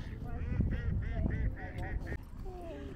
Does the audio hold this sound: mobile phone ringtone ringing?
no